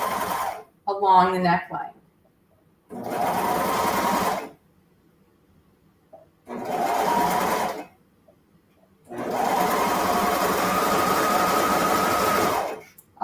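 A sewing machine stitches a seam while the neckline of a ruffle dress is sewn, running in three sustained bursts of motor whir with pauses between them, the last burst the longest; a short stretch of speech comes near the start.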